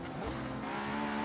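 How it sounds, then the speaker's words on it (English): A purple Honda S2000 drifts in third gear in Forza Horizon 3, its tires squealing over a steady, high-revving engine that holds close and loud throughout. "In third gear, getting some nice drifts going."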